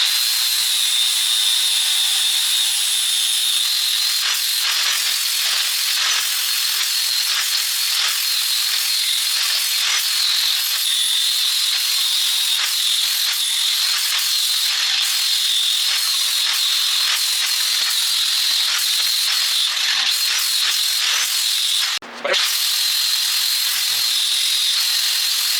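A power tool strips paint off an IS300 bash bar with a loud, sustained high whine and harsh grinding, its pitch wavering as the tool presses against the metal, with one brief pause near the end.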